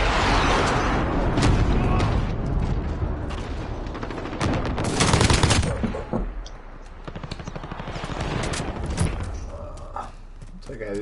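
In Call of Duty: Modern Warfare, a laser-sighted gun fires in rapid, loud bursts with sharp cracks and mechanical clatter, heavy volleys easing off toward the end, while a player talks over the shooting.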